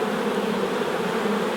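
Agitated honeybees buzz in a dense, steady drone at close range after a sting, the swarm's tone raised and insistent, with no voices over it.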